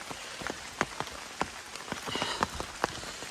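Rain falling steadily, with distinct drops pattering irregularly on a nearby surface over a soft continuous hiss.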